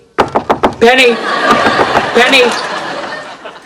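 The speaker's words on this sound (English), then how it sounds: "you just hear a knock anytime" A series of four sharp knocks raps on an apartment door, then a voice calls out and talk follows over the rest.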